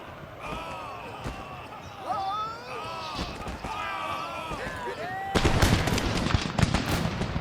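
Muskets fire in a Napoleonic-era battle in the Empire: Total War video game, first as scattered pops under voices and battle noise, then as a loud, dense crackling volley near the end.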